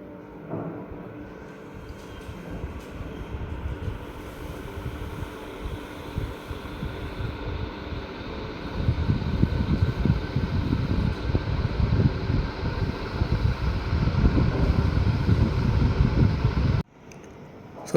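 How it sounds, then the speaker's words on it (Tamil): A Turaco crystal model ceiling fan runs with a steady mechanical hum and whoosh of moving air, growing noticeably louder partway through as it picks up speed, then cutting off abruptly near the end. "இப்போ ஃபேனை வந்து ஆன் பண்ண போகிறோம்."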